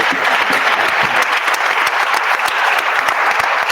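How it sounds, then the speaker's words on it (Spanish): Dense, steady applause from a large audience for the speakers at an event, loud and continuous throughout with no pauses. "Quiero terminar con un aplauso a todos los ponentes."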